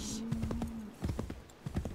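Horse hooves clop in a quick uneven rhythm through a town in Assassin's Creed 3, close and moderately loud, with no talk over them.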